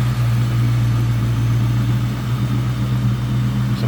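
A 1998 Ford Mustang SVT Cobra's hand-built 4.6 liter dual overhead cam V8, fitted with a cold air intake and BBK throttle body, idles smoothly and steadily with a deep, even low rumble throughout, no talking.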